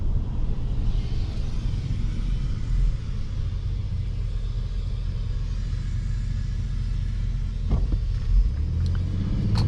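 A 2023 Lincoln Navigator Reserve SUV accelerating in normal mode, a steady low engine and road rumble from inside the cabin with a few brief thumps near the end.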